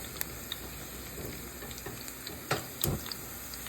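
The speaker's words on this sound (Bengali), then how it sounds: "আজকে দেখেন আমি এই যে ভেজিটেবল ভাজি করতেছি।" Mixed vegetables frying in hot oil in a pan, a soft steady sizzle with a few sharp clicks of utensils against the pan.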